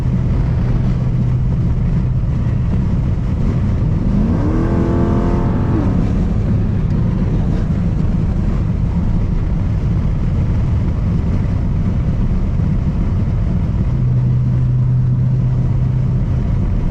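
A cammed Jeep SRT engine rumbles loudly and continuously from inside the cabin during a drive, with a brief rising rev partway through over steady road noise.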